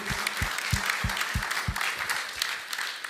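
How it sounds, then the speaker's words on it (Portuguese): A church congregation claps in celebration of the church's first anniversary. The applause is brief and lively, with a steady rhythmic beat of thumps underneath the scattered hand claps. "Uma salva de palmas para a nossa igreja de Tude"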